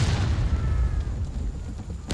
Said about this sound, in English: the artillery at the top of the hill does get a round off